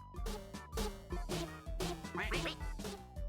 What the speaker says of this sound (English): when it makes you money, it makes a quacking sound effect